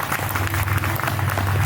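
Audience applause at the end of a staged comedy story, a brief burst of dense clapping from a crowd with a low hum underneath.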